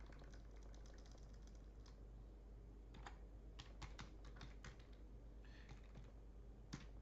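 Keystrokes on a computer keyboard while a join page address is entered, faint and sparse, with irregular clusters of taps over a steady low hum and no talking.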